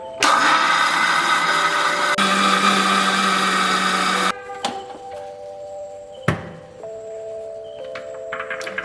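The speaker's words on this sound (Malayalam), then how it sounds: "ഫുള്ളായിട്ട് അരച്ചെടുക്കാം. പല തവണകളായിട്ട് അരച്ചെടുക്കാം." Mixer grinder whirring loudly as it grinds soaked rice batter with sugar for palappam, a steady motor drone that cuts off abruptly, followed by quieter clunks and handling of the jar.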